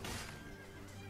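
Horse neighing in the medieval battle game Mount and Blade: Warband, a short whinny rising over dense, busy battle noise at steady loudness.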